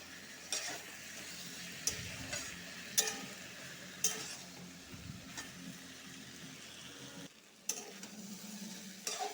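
Garlic paste fries with spices in a pan, giving a soft continuous sizzle broken by repeated scraping stirs and light clinks against the pan, with one brief pause before the sizzling resumes.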